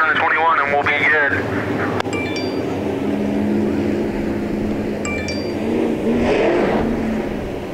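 IMCA Sport Mod race cars racing in a heat at Bakersfield Speedway, a continuous roar of engines revving and passing at a distance, under a commentator speaking over the public address.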